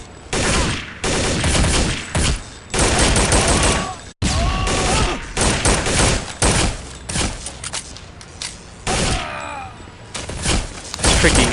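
Dense, loud gunfire from Counter-Strike: Condition Zero Deleted Scenes, including P228 pistol shots, comes in repeated rapid bursts and fusillades with short gaps and one abrupt cut, plus occasional thuds and impacts.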